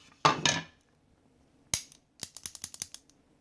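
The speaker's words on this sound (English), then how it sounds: "Take out the fire control unit." Fire control unit of a Sig P320 pistol being taken out of its frame, heard as a scraping slide, then a sharp click and a quick run of small metallic clicks and rattles, close up with no talking.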